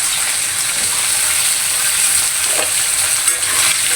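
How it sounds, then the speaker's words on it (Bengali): Potatoes and freshly added carrots fry in a pan, a loud, dense, continuous sizzle heard up close, with a few faint clinks and stirring scrapes under it. "এদিক দিয়ে তো আলুগুলো ভাজতে দিচ্ছি"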